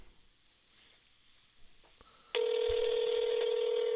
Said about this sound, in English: we're going to try to call Josh, see if he answers